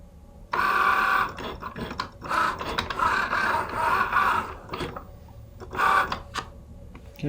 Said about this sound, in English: We're just cutting out the circle for the back of the sticker.